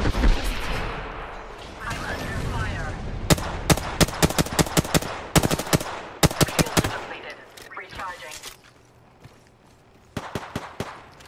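Video game gunfire rings out in rapid bursts of sharp shots, some clustered like automatic fire and others spaced apart, loud and close, with a voice speaking in between.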